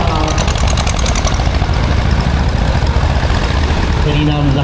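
A vintage tractor engine runs loud and steady at a machinery show, a rough continuous idle with knocking pulses, while a voice talks over it throughout.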